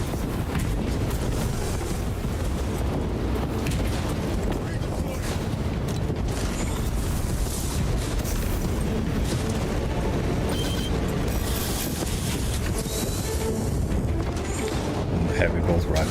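Jetpack thrusters in Warhammer 40,000: Space Marine 2 roar as a steady, dense rushing blast that stays loud and constant, with a voice talking over it.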